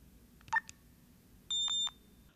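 A short electronic chirp, then two high-pitched electronic beeps in quick succession from an iBill talking banknote identifier signalling a $20 note, clear and close against a quiet background.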